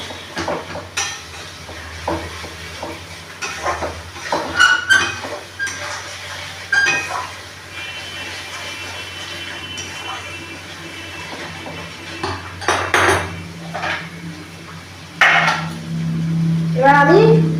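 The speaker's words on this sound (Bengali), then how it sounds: "পেঁয়াজ বাটাটা দেওয়ার পরে খুন্তি দিয়ে নাড়তে থাকতে হবে যেন নিচে বসে না পড়ে" A spatula stirs onion paste in a pan as chicken is being cooked, producing intermittent scraping and clinking of metal on the pan over a soft sizzle, with irregular louder knocks toward the end.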